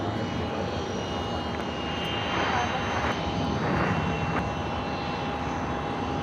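A Hawker 900 XP business jet at Los Angeles International Airport, producing a continuous engine rush with a thin, steady whine running through it, fairly loud and unbroken for the whole stretch.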